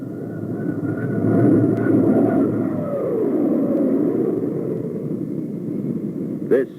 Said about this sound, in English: This airplane literally redesigns itself in flight.